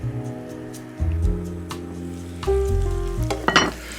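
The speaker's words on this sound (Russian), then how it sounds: "Смотрите, видите, как вот лучок правильно жарится?" Chopped onion sizzling in a frying pan beside liver being cooked, a steady crackling fry close up with a low musical hum underneath and a brief burst of stirring near the end.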